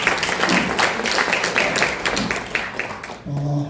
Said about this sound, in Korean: 여러분 감사의 박수를 모십니다.